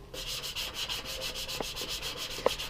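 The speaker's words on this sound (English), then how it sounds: "So we're just gonna lightly sand it." A 400-grit sanding block rubbing lightly over primer on a motorcycle gas tank, making steady, rhythmic back-and-forth scratchy strokes about five per second, close and moderately loud, with a couple of small knocks.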